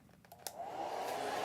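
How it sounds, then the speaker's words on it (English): A hair dryer switches on to dry a watercolor painting, a few faint clicks and knocks leading into a steady rising whoosh of blowing air, close by. "I'm going to dry the painting now. So I get my hair dryer"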